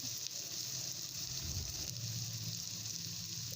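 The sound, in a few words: chopped onions frying in a pan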